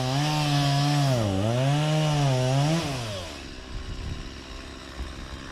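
A chainsaw running through wood, a loud wavering engine whine rising and falling as the blade bites, then dropping away into rougher, lower cutting noise near the end.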